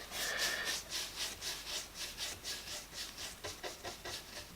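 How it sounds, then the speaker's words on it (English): A paintbrush strokes primer into timber in cross sections, producing rhythmic scratchy rubbing sweeps, roughly eight back-and-forth strokes, close and fairly quiet with no talking. "So put it on in cross sections to really brush it into the grain of the timber."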